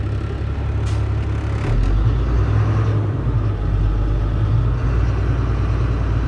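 A Class A truck's engine revving during an air brake pump-down check with the governor not cutting in, a loud, close diesel rumble building and holding steady with a deep low drone.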